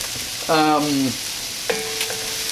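Arborio rice is stirred in a hot pan, a close, dense sizzle with a scraping stroke of the spoon early on and a softer second stir later, no talk.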